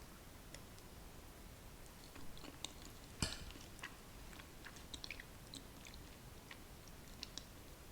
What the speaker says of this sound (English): I'm going to take another bite